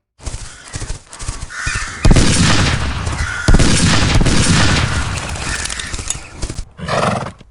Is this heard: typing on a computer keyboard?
no